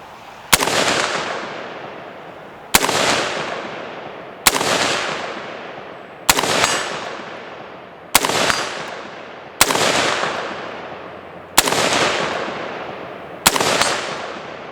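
Eight sharp rifle shots from an AR-15 chambered in .223 Wylde, fired at a 100-yard target with a Holosun AEMS red dot and no magnification, spaced about two seconds apart, each a loud crack with a ringing decay.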